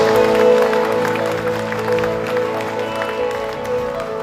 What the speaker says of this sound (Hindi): सारी तालियां।